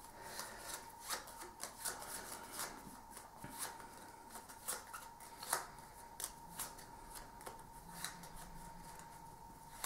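Cards being shuffled during a Burgle Bros board game, a run of quick papery riffles and snaps close by, repeating steadily over a faint background tone.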